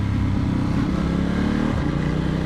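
A Vyrus motorcycle's engine drones steadily while riding through Santa Monica in Los Angeles, close and continuous, with a slight shift in pitch near the end.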